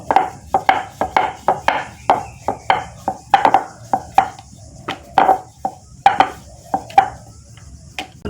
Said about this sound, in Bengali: একটু শুকনো আটা দিয়ে দিলাম দিয়ে এখন আমি রুটিটা বেলে নেবো